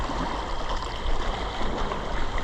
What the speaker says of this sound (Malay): Ini ada ombak ni.